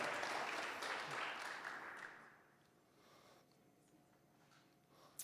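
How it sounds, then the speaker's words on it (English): Audience applause at a county spelling bee: a full, dense burst of clapping fills the room, then thins and fades within a couple of seconds, leaving quiet room tone and a faint tap near the end. "a round of applause and congratulations for all those who earned the right to be here"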